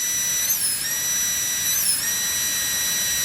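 A high-speed dental drill burr spins at 200,000 RPM on plastic resin during a preventive resin restoration, producing a piercing, steady whine whose pitch dips briefly twice as it presses on the material, with no voices.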